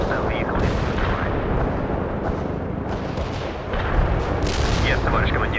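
An artillery barrage from the World in Conflict video game pounds continuously, with dense overlapping booms and blasts mixed with gunfire, while radio-style voices speak over it.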